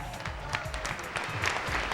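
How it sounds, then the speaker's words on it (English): Crowd applauding and cheering at a fishing tournament weigh-in at Lake Murray, steady, dense clapping with scattered louder peaks, heard at moderate distance with some voices mixed in. "Carol Robertson cheering for Daryl"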